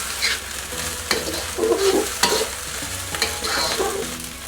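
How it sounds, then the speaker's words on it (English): Rice and vegetables being stir-fried in a pan for golden egg shrimp fried rice: a steady sizzle with sharp scraping and clanking of the utensil tossing the food, several distinct knocks over a continuous frying hiss, no talking. "right now I'm gonna toss in my veggies. Toss that around"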